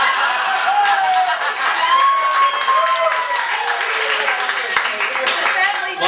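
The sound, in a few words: wedding guests applauding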